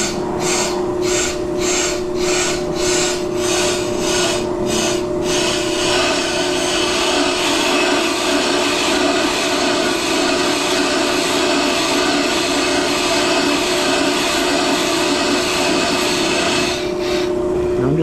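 Brake lathe resurfacing a front brake rotor from a Grand Marquis police-style sedan, a steady loud grinding whir with a rhythmic rasping pulse at first that settles into continuous cutting.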